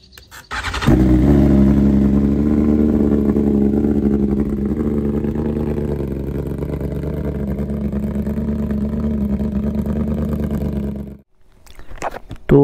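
1000cc superbike engine catching after a brief starter whir, then idling and revving loudly up close, its throaty note holding strong before cutting out near the end.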